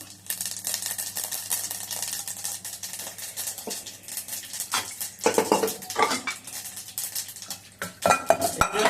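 Mustard seeds crackle and pop in hot oil with a steady sizzle, accompanied by clinking of a utensil against a pan, close up.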